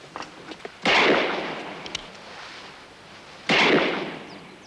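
Gunshots in a German film scene, two loud sharp bursts a few seconds apart, each fading into a rough decaying tail over faint background noise.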